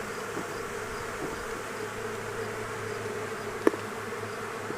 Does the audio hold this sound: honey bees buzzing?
yes